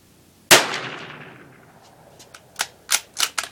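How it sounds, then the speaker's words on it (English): A .22 rifle fired outdoors, one sharp crack that rings out and decays slowly, then after a pause four lighter, closely spaced snapping reports. "Five shots."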